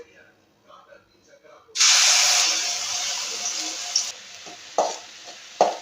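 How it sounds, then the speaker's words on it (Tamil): Ginger garlic paste drops into hot sesame oil and sizzles at once with a loud, steady hiss close by. Near the end, a few sharper spurts break in as it is stirred. "அது ஹீட் ஆயிடுச்சு இப்போ ஒரு ஸ்பூன் இஞ்சி பூண்டு விழுது சேர்த்துக்கலாம்"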